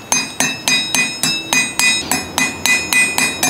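A hammer beats the rough edge of a copper plate being shaped into a small gong, about a dozen sharp, ringing metallic strikes at a steady brisk rhythm, close and loud with no talking.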